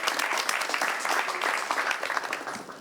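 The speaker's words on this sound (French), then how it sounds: "On l'applaudit pendant qu'elle arrive." A room full of people applauds as a guest walks up during a televised talk show, with quick, dense clapping that stays fairly loud for the whole stretch.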